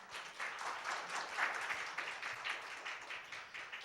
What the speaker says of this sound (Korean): 램의 박민우님께 다시 한번 큰 박수 부탁드립니다.